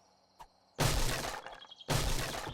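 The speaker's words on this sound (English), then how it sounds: "I heard glass breaking and all sorts of stuff." Glass shattering in the video game 7 Days to Die during horde base construction: two loud, dense crashing bursts, the first about a second long and the second following after a short pause, preceded by a faint knock.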